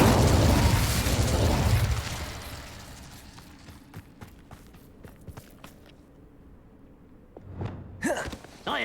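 The Incendio fire spell cast in Hogwarts Legacy, a loud roaring burst of flame that fades over a couple of seconds into scattered crackles and small pops, ending with a few sharper bursts.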